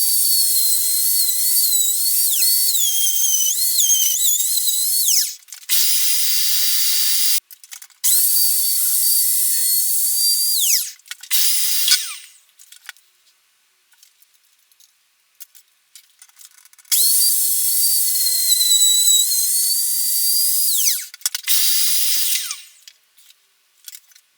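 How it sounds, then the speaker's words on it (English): A router with a fence cuts a channel into an SG junior-style guitar body in three passes. It gives a loud, high whine in several long bursts, separated by quiet gaps and short spin-downs. "So I've set the router up with a fence and I'm going to try and get this in 3 passes"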